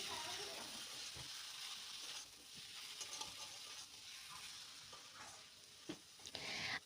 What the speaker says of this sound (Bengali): এবার আবারও একটুখানি আমি মিশিয়ে নিচ্ছি।